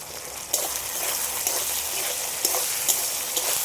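Ginger garlic paste with a pinch of salt sizzles in a pan over lightly fried onions, a dense, steady crackling hiss with occasional sharper pops and stirring scrapes, close and continuous.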